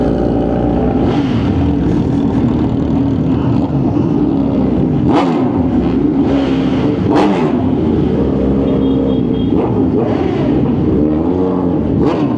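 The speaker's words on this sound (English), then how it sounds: "Noisy Suzuki next to me." Loud, steady engine drone from a noisy Suzuki motorcycle idling and revving right alongside, with a few sharper surges of throttle, heard continuously from nearby on a group ride through a town.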